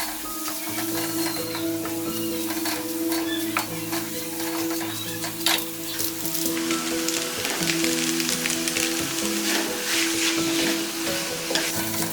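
Food sizzles loudly in a hot pan while being stirred and tossed with salt for a tofu dish, a continuous crackling hiss with occasional scraping, no voices.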